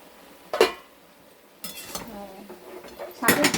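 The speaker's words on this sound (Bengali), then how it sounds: "চলো এবার ঢাকাটা খুলে দেখি।" A metal lid is lifted off a cooking pot of vegetables, with clanks and rattles of cookware at the start and end and a soft sizzle and stirring in between, close and fairly loud.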